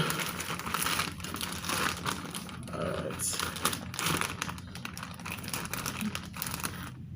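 Crinkly plastic packaging of a mini tripod rustles and crackles up close in repeated bursts as it is handled and pulled open.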